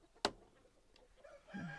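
A broody blue laced red Wyandotte hen gives a sharp squawk, then soft murmuring clucks and a low drawn-out grumble, close and quiet.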